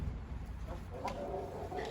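Backyard chickens cluck softly and intermittently over a steady low rumble of background noise, with no one talking.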